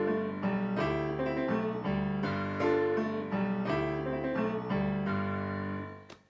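Solo piano plays a rolling New Orleans rhythm-and-blues pattern, a syncopated left-hand figure under repeated right-hand chords, bright and close, ending on a final chord that fades out.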